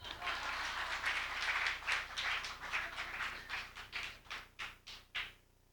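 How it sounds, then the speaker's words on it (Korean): A church congregation clapping together at a Sunday morning service, with sustained, even applause that builds and then breaks into a few slower, separate claps before stopping. "박수에 들어가요."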